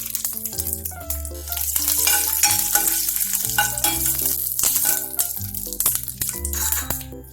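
Mustard seeds, cumin and curry leaves fry in hot oil for a restaurant-style idli sambar, giving a continuous close sizzle with light crackling under loud background music.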